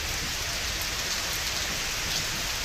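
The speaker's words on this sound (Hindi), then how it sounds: "तेज बारिश से जनजीवन प्रभावित है।" Heavy monsoon rain pours down in Chhattisgarh, a dense continuous hiss of drops hitting surfaces, steady and loud throughout with no voices.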